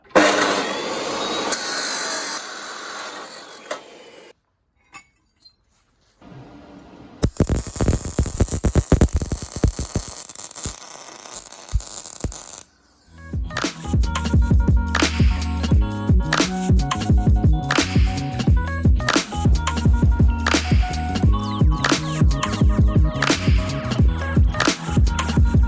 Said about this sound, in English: Now after grinding off all the welds, this is what we're left with.